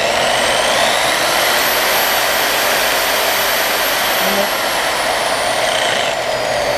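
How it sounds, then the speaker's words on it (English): A variable-speed car paint buffer whirs at a steady high pitch up close, a loud constant whine with a faint tone sweeping slightly, during work on a 1960 Pontiac Catalina barn find. "I'll probably run the buffer maybe around that, probably right around that speed there."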